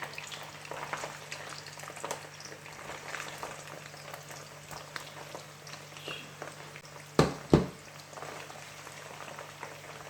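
Bitter gourd (karela) slices fry in a pan with a steady, even sizzle throughout, broken near the end by two sharp clatters close together; no one speaks.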